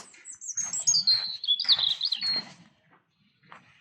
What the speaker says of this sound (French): Ah, l'oiseau, les oiseaux.